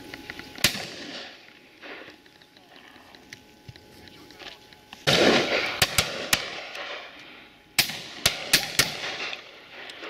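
Shotguns fire at a pheasant and partridge shoot outdoors, with several sharp reports scattered across the scene, some close and loud, others more distant, over a background of faint voices and countryside ambience.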